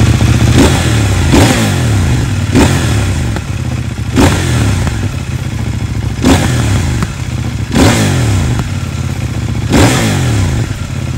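A CFMOTO 800NK Advanced motorcycle engine revs up loudly again and again at close range, with about six sharp throttle blips rising and falling over a steady idle, no talk.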